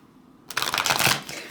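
Cards from The Wild Unknown tarot deck are riffled in one quick burst of dense crisp flutters, close and fairly loud, lasting about a second.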